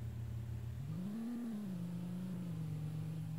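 Car engine in a stunt driving video game revving steadily, its tone climbing briefly then settling into a sustained mid-pitched drone, loud and continuous with no talk.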